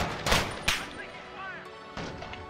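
Several sharp gunshots crack in quick succession, loud and close, with a further burst near the end over a faint electronic background.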